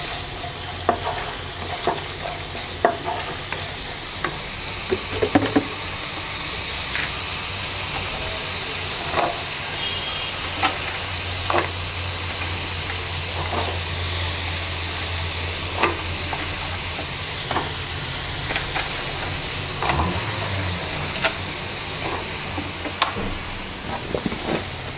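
Vegetables and dried fish (shutki) fry and sizzle steadily in a pan, a continuous hiss with occasional stirring clatter and scrapes of the spatula throughout.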